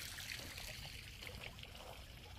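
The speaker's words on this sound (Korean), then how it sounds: "분수가 시원한 느낌이 아닌 추운 느낌이 듭니다." A garden fountain trickles steadily outdoors on a cold November evening, a continuous soft splashing and dribbling of water that stays faint and even throughout, with no voices.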